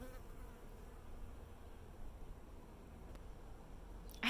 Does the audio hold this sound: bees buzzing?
yes